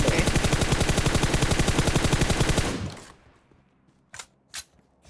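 Rapid automatic gunfire in PUBG Mobile, a loud, steady stream of evenly spaced shots for nearly three seconds that cuts off, followed by two short, sharp bursts after a pause.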